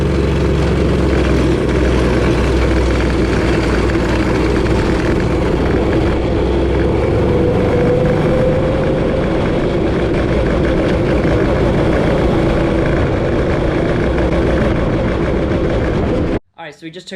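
A $100 go-kart with a swapped live axle, its engine roaring loud and close under full acceleration, a constant heavy drone that holds steady before cutting off abruptly at the end.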